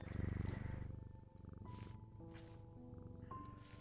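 A cat purrs steadily while being petted in the video game Strange Antiquities, a close, continuous rhythmic rumble with a few soft chime tones from the game layered over it and no talking.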